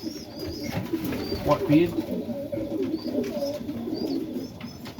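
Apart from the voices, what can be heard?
Serbian Highflyer pigeons cooing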